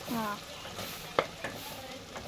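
Cooked rice tossed and stirred through Schezwan fried rice in a hot pan, with scraping spatula strokes and sharp clinks against the metal over a low sizzle, close and alone without speech.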